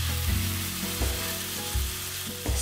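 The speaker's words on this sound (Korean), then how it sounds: "식용유를 3큰술 정도 두르고 스테이크를 올립니다" Steak sears in about three tablespoons of smoking-hot cooking oil in a pan, a close, loud crackling sizzle punctuated by a few dull knocks and thumps of handling.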